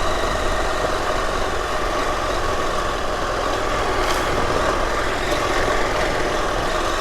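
A Husqvarna Norden 901 adventure motorcycle engine labours steadily up a steep off-road uphill with tree roots, a constant low rumble close to the microphone with no pauses.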